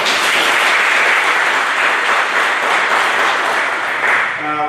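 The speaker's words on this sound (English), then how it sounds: "Give them another round of applause." Sustained applause from the audience at a Veterans Day celebration in East Orange, a dense, even wash of many hands clapping that holds steady and close for several seconds before easing slightly at the end.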